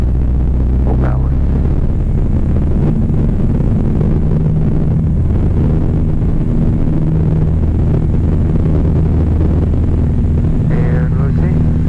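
A Piper Archer II single-engine plane at full takeoff power, a loud steady droning engine roar filling the whole stretch, with brief radio-like voice fragments over it.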